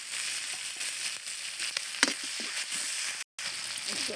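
Cumin, garlic, onion and green chilies sizzle steadily in hot oil, a close crackling hiss with small pops and a brief stir scrape, all alone with no voices.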